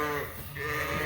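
A sheep lets out a single short bleat nearby on a farm, a harmonic, wavering call that fills the whole moment.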